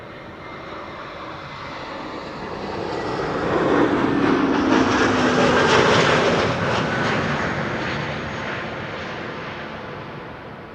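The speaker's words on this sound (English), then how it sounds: "This is ITA Airways, flight 108, arriving from Rome, an A321neo" An ITA Airways Airbus A321neo arriving at Amsterdam Schiphol passes with a broad jet engine roar that swells to a peak midway and then slowly fades, heard at a distance without talk.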